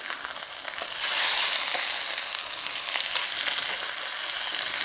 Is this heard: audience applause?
no